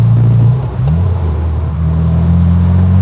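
A new Morgan Plus Four sports car driving along, its engine a loud, close low rumble that shifts pitch as it changes gear and pulls steadily.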